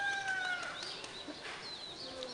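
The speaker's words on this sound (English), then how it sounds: "Ooh, there was a bird." Dawn birdsong from a balcony in Kathmandu, with several thin chirps and whistles overlapping against a steady, busy outdoor background, fairly distant and soft.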